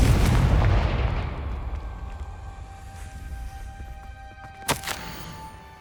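A Confringo spell blast in Hogwarts Legacy lands as a loud, booming explosion that rolls off into a long fading rumble, followed by a sharp crack near the end.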